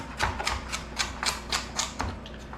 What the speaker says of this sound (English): Cut your carrots up.